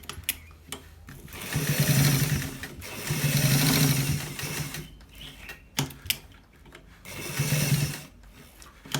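A sewing machine stitches a front pocket on a garment in four steady runs of whirring, rattling mechanism, each a second or two long, separated by short pauses and clicks.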